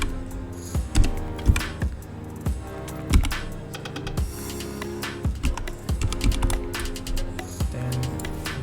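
Text is typed on a computer keyboard: close, irregular key clicks and taps arrive in quick bursts, with a few louder strikes standing out over a faint background, and no talking.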